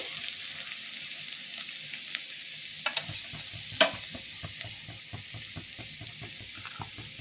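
Chopped garlic and ginger fry in oil in a pan, giving a steady bright sizzle with soft scrapes and light clicks of stirring throughout, one louder knock near the middle, and no talk.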